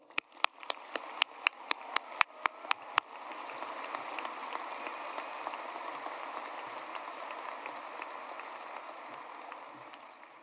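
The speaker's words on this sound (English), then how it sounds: "let's welcome him and have a round of applause" Audience at a university graduation ceremony at the University of Wyoming. A few sharp, separate claps open the sound, then a steady wash of broad applause fills the hall and carries on throughout.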